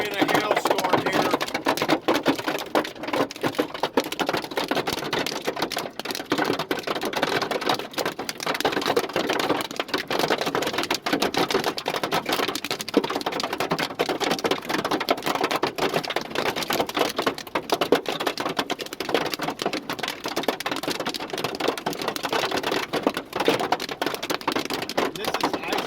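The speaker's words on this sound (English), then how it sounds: "Unfortunately, we're in a hailstorm here." Dense, steady clatter of marble-sized hail pelting down during a hailstorm on an iced-over road, loud and continuous throughout, with a voice talking over the roar.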